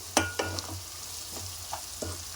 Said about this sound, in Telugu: ఒక స్పూన్ పసుపు వేసుకున్నాక మొత్తం కలిపేసుకోవాలి ఒకసారి